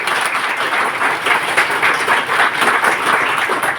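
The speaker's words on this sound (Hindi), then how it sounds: "उनके लिए एक शानदार ताली होनी चाहिए" An audience at a motivational business speech event applauds, a loud, dense and continuous wash of many hands clapping that holds steady throughout without any talk over it.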